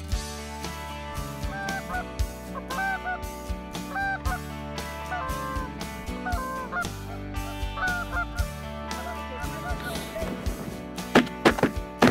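Canada geese honk in scattered calls over a steady droning background, growing louder and more frequent toward the end as the flock comes in close to hunters' decoys.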